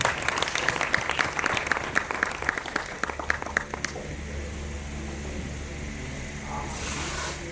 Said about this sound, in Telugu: అందరు చప్పట్లు కొట్టారు